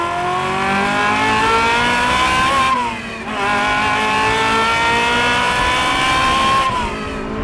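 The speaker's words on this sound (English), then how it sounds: "That is simply one of the best sounding, the rawest engines I've ever driven." Ferrari F355 V8 revving hard, a loud, raw high-pitched wail that climbs steadily, dips briefly on a shift near the middle, then climbs again close up with no talking.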